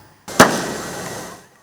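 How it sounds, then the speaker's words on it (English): A single sharp bang as police fire a tear gas canister at street protesters, followed by a broad hissing rush that trails off over about a second, with crowd noise faint underneath. "Some of the overzealous police personnel directly fire the canisters and deploy the water cannon"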